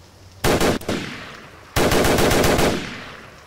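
Two loud bursts of rapid gunfire from Garry's Mod M9K weapons, a short one followed by a longer sustained volley, close and punchy with a brief pause between.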